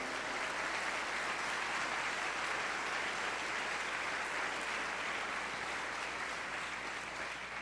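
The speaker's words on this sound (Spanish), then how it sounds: "¿Puedes dar un aplauso al Rey?" A church congregation gives sustained applause during a sermon, a steady wash of many hands clapping, fairly quiet and distant, with no speech over it.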